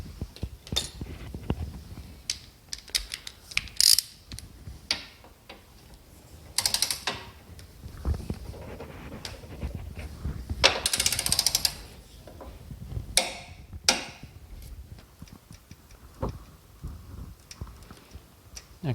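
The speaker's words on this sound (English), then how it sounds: "And I need to torque that up to 33 foot-pounds or 45 Newton meters." A wrench torques a subframe nut on a Moke front subframe, with close, intermittent mechanical clicks and ratcheting bursts separated by quieter handling noises.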